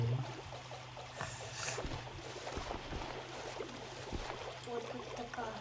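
A wooden boat glides along a river channel in Minecraft, with soft trickling and lapping water sounds and small paddle splashes repeating at a moderate level, fairly close.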